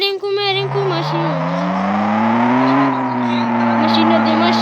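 A Dacia Logan car engine drones steadily from inside the vehicle, its pitch slowly rising and falling as it drives, with people talking over it throughout.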